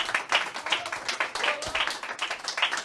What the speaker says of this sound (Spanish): Un fuerte aplauso para Tobit por este tema